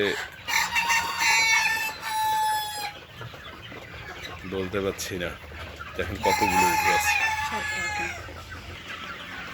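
Chickens and roosters on a farm cluck and crow loudly and close by, with repeated calls overlapping across the scene while someone speaks over and between them.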